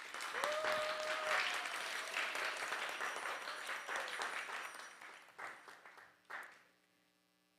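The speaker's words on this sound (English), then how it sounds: "So a huge round of applause to Mother Gopi Gita, please." A temple hall audience at an ISKCON Dallas gathering claps steadily for several seconds, fairly distant and soft, before the applause thins out and fades to quiet.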